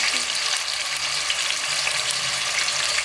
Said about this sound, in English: So fry your meat.